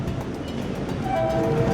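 A passenger train runs along a single railway track, a steady low rumble of wheels and carriages close by, building slightly louder with a sustained horn-like tone sounding briefly near the end.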